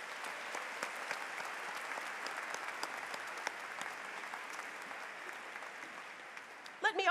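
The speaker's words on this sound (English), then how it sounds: "Please join me in applauding these special guests." Commencement audience at a college ceremony applauding special guests, a steady, dense wash of clapping from a large crowd that holds for several seconds and swells slightly at the end.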